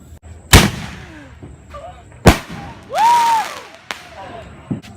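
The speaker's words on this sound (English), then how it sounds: "These are illegal fireworks from North Carolina." Illegal fireworks from North Carolina going off in loud, sharp near blasts, two big bangs followed by a rising whistle and smaller pops.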